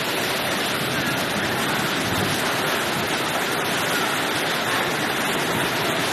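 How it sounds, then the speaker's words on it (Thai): Loud, roaring wind in a rain and hail storm in Khon Kaen, Thailand, buffeting the microphone with continuous broadband rush, no pauses, close and overwhelming throughout. "ลมแรงครับแรงมาก"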